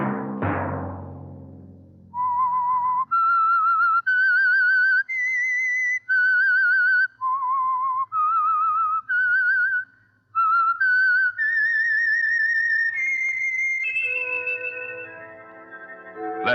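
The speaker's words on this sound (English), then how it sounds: "Let that whistle be your signal" A clear whistled melody of distinct sustained notes rising and falling, preceded by a sharp struck tone, ending in a brief chord.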